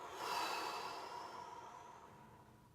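One slow, deep exhale, a soft breathy rush that swells early and then gradually fades, close to the microphone with no talking.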